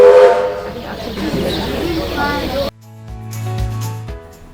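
A Glenbrook steam coal train in New Zealand pulls out of the station: a loud wash of steam hiss with a sharp whistle at the start, then an abrupt cut to a softer, steadier tonal passage.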